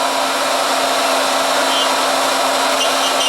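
Handheld wood router cutting tails for a joint, a steady, loud, high-pitched whine held level throughout without pause, no talking.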